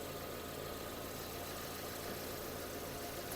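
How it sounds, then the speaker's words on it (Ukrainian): A Hyundai Tucson's engine idles steadily at close range, a constant low hum with faint mechanical ticking and no other voices. "Двигун працює чітко"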